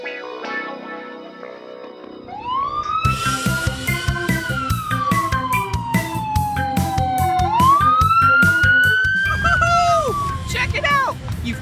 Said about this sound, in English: right now I'm driving a police truck.